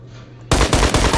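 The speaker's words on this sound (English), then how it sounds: "The SKS can shoot through walls, by the way." SKS rifle fire in a video game breaks in suddenly after a quiet hum, loud close rapid shots in quick succession.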